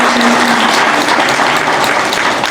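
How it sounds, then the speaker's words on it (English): Loud, dense applause from a town hall crowd in Philadelphia, continuous and even throughout, filling the room with no speech over it. "Can you please give both of them a huge round of applause?"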